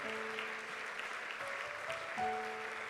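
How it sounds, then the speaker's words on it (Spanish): Church congregation applauding in worship, a steady wash of clapping throughout, with faint sustained tones from music or voices beneath. "Dele un fuerte aplauso al Señor Jesucristo en este momento."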